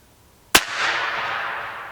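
A single sharp shot from a Hatsan Factor Sniper .30 caliber airgun firing a 61.5 grain slug, a loud close crack followed by a lingering hissy decay.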